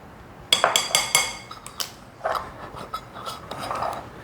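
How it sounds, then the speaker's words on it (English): A spoon clinks and scrapes against a bowl while cinnamon and nutmeg are stirred into a carrot cake mixture, with a few sharp taps, then softer scraping, close by and with no talk. "I'm going to stir those in."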